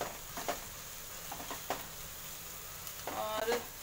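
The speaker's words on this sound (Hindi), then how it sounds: "अब इसको अच्छी तरह से भूनेंगे टमाटर डालकर" Masala with tomato being fried for a mushroom masala curry, giving a soft, low sizzle with scattered scraping stir strokes, brief clusters of crackle near the start and a busier burst toward the end.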